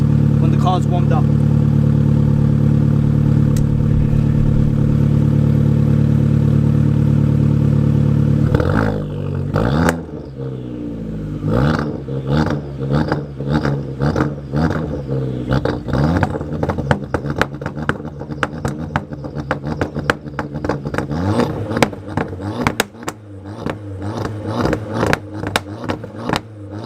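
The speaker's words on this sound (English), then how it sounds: "now this is a few revs when the car's warmed up" A warm Abarth car engine idles, then is revved several times to about 3,500 rpm in quick bursts, each rise and fall sharp and loud, close by.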